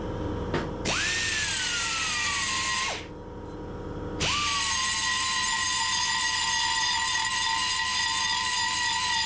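A belt sander skims over hardened filler with a high steady whine, cutting out briefly midway and then restarting to run on evenly, close and alone.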